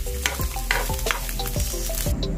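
An egg fries in a hot pan, sizzling steadily while a utensil stirs and scrapes it with several distinct strokes, close up and with no voices.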